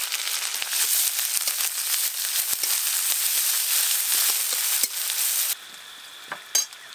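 Chopped onion hits hot mustard oil with black cumin seeds and dried red chilli, a loud, steady close sizzle with fine crackles that runs on without a break, then drops to a softer frying hiss near the end.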